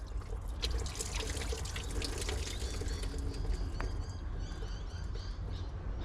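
Coolant from an excavator pours and trickles steadily throughout, a continuous watery splashing close by with faint bird chirps in the background.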